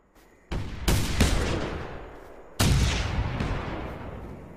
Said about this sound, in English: I'm seeing a lot of blood clots whenever I'm shooting it.